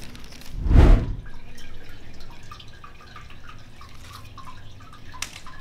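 A part is dipped into a hydrographics water tank with one loud close splash and surge of water, followed by softer drips and small sloshing sounds.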